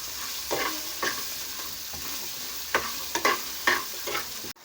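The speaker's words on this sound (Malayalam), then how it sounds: "ചെറിയൊരു സവാളയും കൂടെ അരിഞ്ഞതാണ്. ഇത് ഒന്ന് വഴണ്ട് വരട്ടെ." Chopped onion sautéing in a pan for a Kerala-style beef curry, with a steady sizzle and several spoon-stirring scrapes at uneven intervals, heard alone with no voices.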